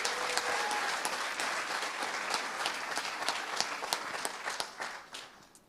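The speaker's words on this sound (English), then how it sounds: "Everybody who's presented here today, please, one round of applause for all of you." An audience at a startup demo day claps for the presenters, a steady round of applause with distinct individual claps that thins toward the end.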